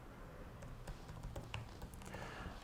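Quiet, steady typing on a computer keyboard while naming a file, a run of light irregular key taps over a low background hum.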